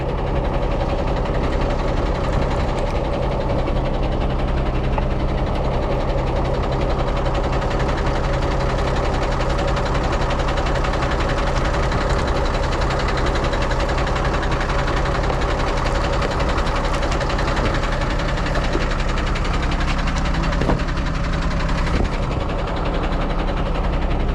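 A ZIL-130 truck engine idles steadily with a low, even, slightly knocking rumble, close and continuous throughout without any talk.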